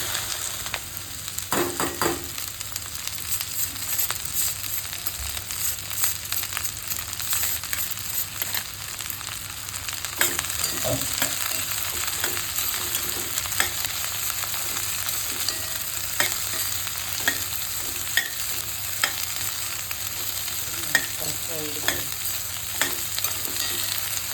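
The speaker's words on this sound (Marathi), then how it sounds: "कढई मी तापत ठेवलेली आहे, त्याच्यात आपण ही भेंडी बुळबुळीतपणा निघून जाईपर्यंत आपल्याला फ्राय करून घ्यायची" Okra frying in a hot kadhai, a constant bright sizzle with occasional scraping and clinking as the pieces are stirred, close and steady with no talking.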